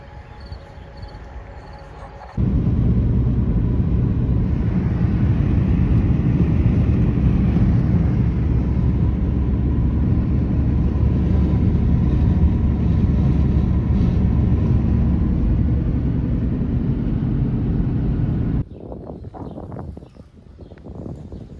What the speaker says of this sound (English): If it wasn't for the traffic noise that's coming from this side